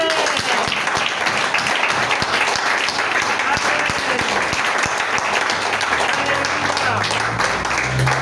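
Church congregation clapping and applauding for Jesus during a sermon, steady, dense applause filling the room from start to finish, with some voices mixed in.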